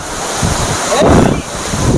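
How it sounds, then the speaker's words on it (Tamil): Water pours down the Agaya Gangai waterfall in the Kolli Hills in May, a steady broadband rush with gusty wind buffeting the microphone and a faint voice in the background. "இங்கே மே மாதத்துலேயும் தண்ணி எப்படி ஊற்றுது பாருங்களேன்"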